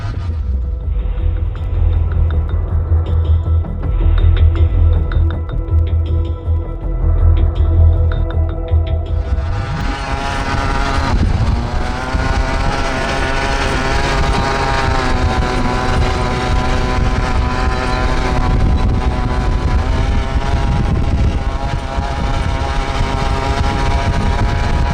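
Speed UTV Baja Bandit tearing through a rough whoop section, its engine roaring steadily loud and close with throbbing revs that climb sharply partway through and stay high, wind buffeting the microphone throughout.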